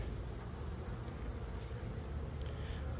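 Honeybees swarm around an open hive built inside a gourd, a steady dense buzz hanging low and continuous throughout, moderately loud and close with no voices.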